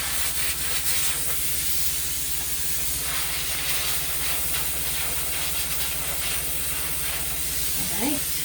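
A continuous soft hiss of steam plays while a yarn skein is being steamed, steady and fairly quiet for the whole stretch, with a brief faint voice near the end.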